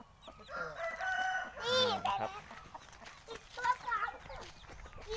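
Gamecock chickens cluck and a rooster crows loudly nearby, with people talking over and between the calls.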